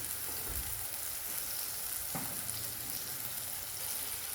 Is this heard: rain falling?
no